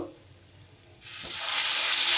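Sarputi fish frying in hot oil: quiet at first, then a loud, steady sizzle bursts up after a second and keeps going strongly, with faint stirring underneath.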